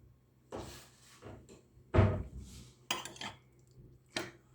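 Utensils toss a tomato and onion salad dressed with oil and pomegranate molasses in a bowl, giving a few sharp clinks and clatters of metal against the dish between quieter scraping, close by.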